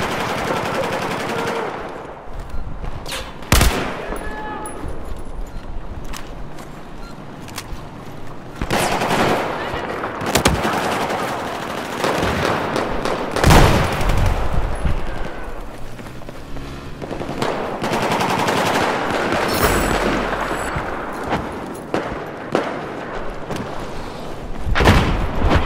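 Hostile machine gun fire in a first-person shooter game, sustained rattling bursts near and far with sharp individual cracks and explosions mixed in, continuing throughout under occasional voices.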